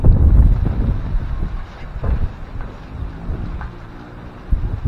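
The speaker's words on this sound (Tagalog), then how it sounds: "yung natatakutan ng lahat ng may gulay ngayon, yung hangin na to." Strong typhoon wind buffets the microphone in heavy low rumbling gusts, loudest at the start and again near the end.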